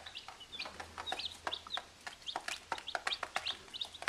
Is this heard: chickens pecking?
yes